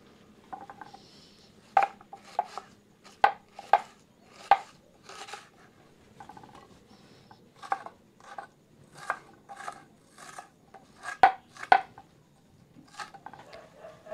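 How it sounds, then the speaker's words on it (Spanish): A knife chops onion on a board in irregular bursts of crisp taps, close and clear with quiet gaps between strokes. "Voy a picar un poquito de cebolla."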